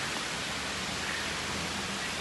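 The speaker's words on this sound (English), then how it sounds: "I'm getting rained on even more" Rain falls outdoors in a continuous, even hiss that stays steady throughout, moderately loud with no voices.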